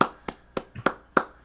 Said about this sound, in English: Let's clap it up for Scarlet, please.